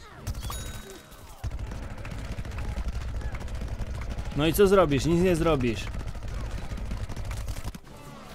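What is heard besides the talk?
gunfire in a video game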